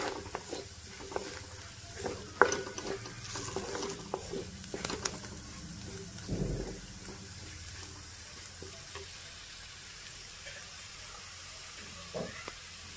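Roasted dry coconut frying with onion in oil for brain fry gives a soft continuous sizzle close by, with scattered spoon scrapes and clinks in the first half before settling into a quieter steady fry.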